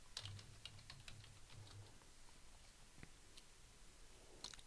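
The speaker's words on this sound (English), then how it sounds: "typing in my password" Password keystrokes on a computer keyboard while logging into a local MySQL Workbench instance, a quick run of close, light clicks with brief pauses and no talking.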